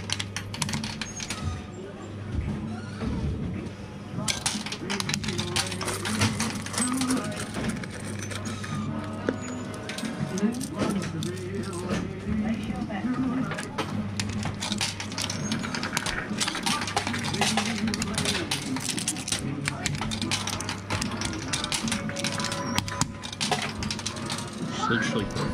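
An arcade coin pusher machine with a slow, sluggish pusher bed runs continuously with a low motor hum, while coins clink and drop in frequent metallic bursts and people talk nearby.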